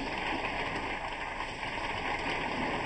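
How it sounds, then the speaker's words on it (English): Steady, dense hiss of rain falling on surfaces during the World Solar Challenge race in 1990, continuous and even throughout with no voices. "as you might be able to hear, we're in rain at the moment."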